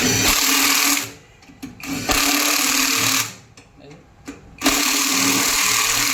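A power tool fitted with a 16 socket loosens axle nuts on a loader drum, running in loud bursts that stop and restart several times, with someone talking over it.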